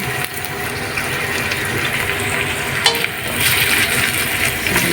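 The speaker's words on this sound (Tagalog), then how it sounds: "Isuto na natin onion, garlic, saka ginger." Onion, garlic and ginger frying in a pan for taro leaf laing, a steady close sizzle and crackle with faint stirring clatter, running without pause and with no talk.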